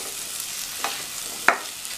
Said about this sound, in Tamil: இந்த காயையும் இதிலேயே நல்லா வதக்கி விட்டுக்கலாம்.